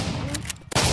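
Gunfire in the shooting video game MaskGun: loud, dense, broadband shots fire almost continuously, with a brief gap before another burst.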